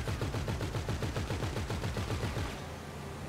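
Rapid automatic gunfire in GTA Online aimed at a low-flying police helicopter, a dense rattling burst sustained for about two and a half seconds before easing into quieter tail noise.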